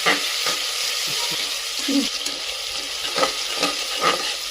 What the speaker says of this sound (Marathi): नंतर टोमॅटो तर चांगलं चांगलं फ्राय होऊन द्यायचं